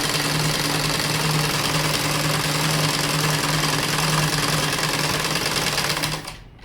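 An electric sewing machine stitches the side seam of a kurti in one continuous, fast, even run of needle chatter, close and loud for about six seconds before it stops.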